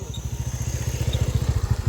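A scooter engine running close by, with a steady low putter of rapid, regular pulses and no voices.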